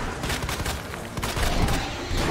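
Handgun gunfire in the Resident Evil 2 Remake video game comes as a rapid series of loud, close shots and thuds in quick succession, layered over busy game noise.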